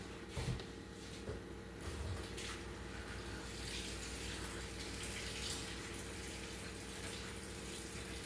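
Water runs steadily from a tap in a continuous hiss, with a few faint knocks and clinks near the start.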